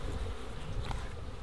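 Honey bees buzz steadily during a hive inspection, a close, continuous droning hum with no speech over it.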